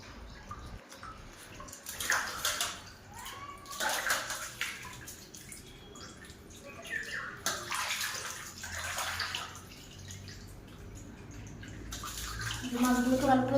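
Fish being washed under running water from a hand-pump tap in a home kitchen area, with steady splashing and trickling throughout and louder gushing near the end, while someone talks over it.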